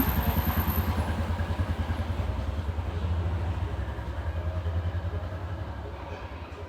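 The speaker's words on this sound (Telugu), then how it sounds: "వైర్కి టచ్ చేయగానే తిరగడం అనేది స్టార్ట్ అయింది" An LG semi-automatic washing machine motor spins on a test bench, giving a loud, steady mechanical hum with a fast rhythmic pulsing that holds throughout and eases slightly near the end.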